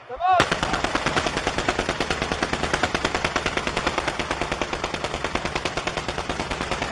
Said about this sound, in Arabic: والله رمي ممتاز